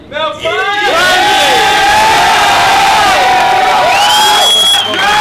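A large crowd cheers and shouts loudly and continuously, with whoops and high yells rising over a dense roar that swells again near the end.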